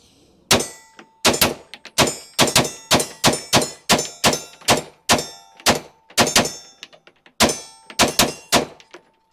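Rapid bursts of sharp, loud pistol shots from a Staccato XC fired across several targets, grouped in quick doubles and strings with short pauses, each crack ringing briefly off steel plates.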